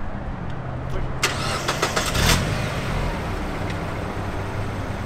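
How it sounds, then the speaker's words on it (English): A manual-transmission car engine turns over and catches, with a few quick cranking bursts before settling into a steady idle rumble close by. "you have to push the clutch in to restart the car"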